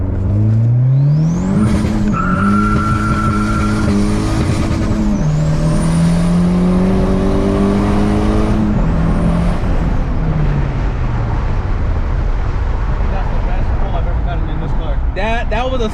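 Hellcat-swapped Chrysler 300 on new coilovers accelerating hard through several gears on a road, engine pitch climbing and dropping with each shift before settling into a loud steady cruise, heard from inside the car.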